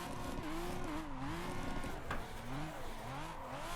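Toyota Supra MK4 drift build sliding around the Spa circuit in Assetto Corsa, its engine note rising and falling continuously with wavering revs, loud and close throughout, with tire noise mixed in.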